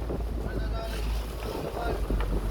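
A motor boat runs steadily over water at about 19 knots, with a constant low engine rumble, wind buffeting, and splashing waves.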